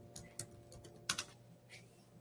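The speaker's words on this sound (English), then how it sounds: "just type the image you want to search for" Several quick keystrokes on a computer keyboard entering a search term, soft clicks in small bursts with pauses between them, close and fairly quiet.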